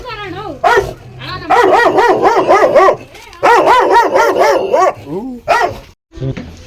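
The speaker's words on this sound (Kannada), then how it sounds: "ನೋಡ್ಬೋದು ಇಲ್ಲಿ ಒಂದು ನಾಯಿ ಐತೆ." A dog outside an old family house barks loudly and close by in rapid, repeated bursts with short yips and brief pauses between volleys.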